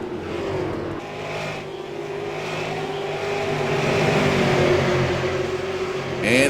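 Sim-racing super late model stock cars lapping Five Flags Speedway, a steady droning engine tone with several cars blending together, rising slightly in loudness, with a sharp burst of revving at the very end.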